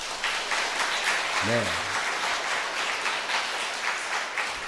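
A church congregation at a Korean overnight prayer meeting breaks into sustained applause, dense clapping from many hands throughout, with a brief spoken reply rising over it.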